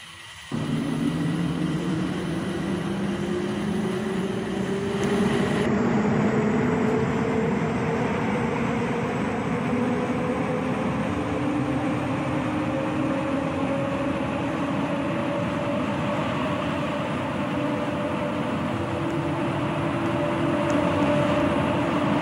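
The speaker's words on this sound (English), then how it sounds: "Please hold on, we are leaving the station." An automated airport transit train hums and whines as it pulls away from a station, the rising motor tone steady and close, with a rumbling ride beneath.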